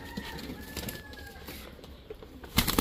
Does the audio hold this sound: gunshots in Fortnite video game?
no